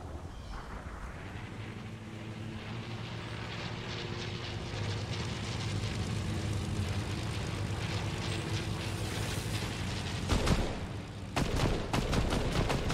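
Propeller fighter planes droning steadily through a video game battle, a loud continuous engine roar with bursts of machine-gun fire near the end and no talk.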